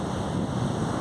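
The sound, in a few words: wind at the beach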